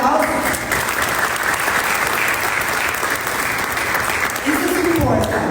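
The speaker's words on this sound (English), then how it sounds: "Yes, another round of applause." The audience at the official opening of Dominican Week in Jamaica gives a full round of applause, a loud and dense clapping that carries on steadily, and someone speaks briefly near the end.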